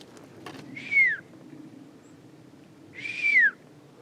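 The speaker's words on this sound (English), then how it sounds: "You hear that? It could be a bird." Two clear descending whistled bird calls ring out in quiet woods near a reservoir, each about half a second long and spaced a couple of seconds apart, fairly close and alone over faint background hiss.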